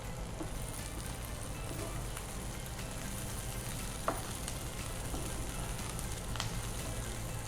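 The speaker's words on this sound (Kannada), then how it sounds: "ಸರಿಯಾಗಿ ಫ್ರೈ ಆಗಬೇಕು." Prawns fry with capsicum and curry leaves in a pan, giving a steady close sizzle with occasional stirring clicks and pops throughout.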